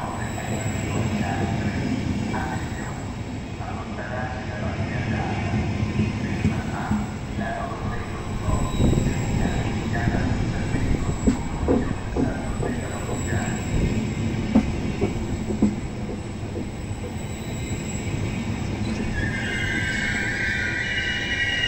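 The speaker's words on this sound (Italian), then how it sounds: "faccio qualche ripresa ai treni che passano e fermano tra S9, Regio Express per Bergamo e Frecciarossa e qualche altro" Trains roll through Milano Lambrate station on a mild Saturday, among them S9, Regio Express and Frecciarossa services, with steady wheel rumble, clicking rail joints and shrill wheel squeal near the end, plus faint talk in the background.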